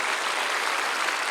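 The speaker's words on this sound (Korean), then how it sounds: "그분들에게 박수를 보냅시다" Short burst of dense audience applause at a large church prayer rally held at the War Memorial in Yongsan, steady clapping from many hands with no talk.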